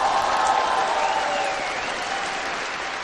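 Studio audience at a televised Chinese music show applauding a rock band, a dense, steady wash of clapping from a large crowd that holds loud throughout and eases slightly toward the end.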